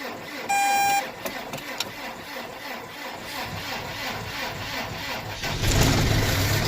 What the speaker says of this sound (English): You can hear it has a hard time even starting the tractor.